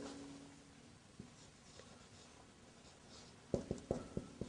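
Writing on a board during an Arabic lesson: faint scratching early on, then a run of quick, sharper taps and strokes near the end, with no one speaking.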